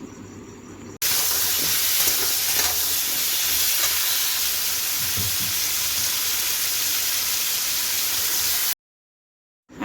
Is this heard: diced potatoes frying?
yes